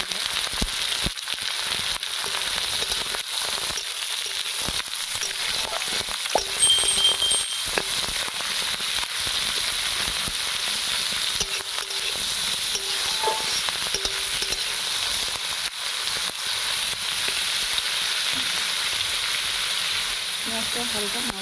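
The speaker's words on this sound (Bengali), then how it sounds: "তো তেলটা ভালো করে গরম হয়ে গেছে। আমি এবার এখানে পেঁয়াজ দিয়ে দিচ্ছি।" Large onions frying in hot oil, a steady loud hiss of sizzling that runs the whole time, with occasional light clinks and stirring sounds.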